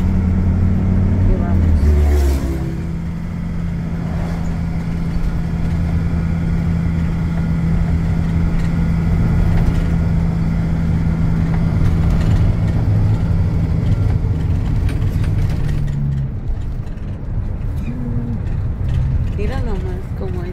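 A car travels along a road near Ojos Negros with a steady, close engine and road rumble throughout, while people talk over it.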